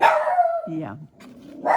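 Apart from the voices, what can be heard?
dog barking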